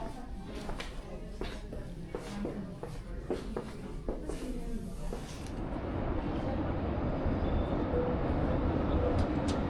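Old trams rumble past on a Helsinki street, a steady rolling clatter with repeated sharp knocks early on, then a denser, louder roar of wheels and motors close by.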